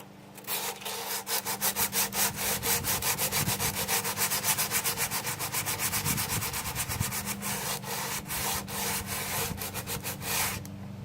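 Sanding a wooden Sparton 69 radio cabinet by hand with 60 grit sandpaper: steady, rhythmic back-and-forth rasping strokes, close and fairly loud, continuing alone for about ten seconds.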